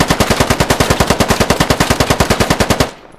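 An RPK machine gun in the video game Squad fires one long, loud, close burst of about thirty evenly spaced rapid shots, then stops abruptly.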